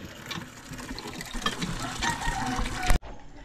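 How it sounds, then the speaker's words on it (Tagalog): Strong running water pours steadily at an outdoor water-fetching spot, a continuous close rushing wash with faint background bird sounds, ending in an abrupt cut. "Malakas ng tubig."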